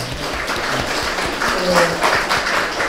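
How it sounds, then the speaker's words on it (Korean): An audience at a civic education lecture with a poet applauds a guest being introduced, a dense, continuous round of clapping with some voices mixed in beneath it. "박수 한번 부탁드립니다"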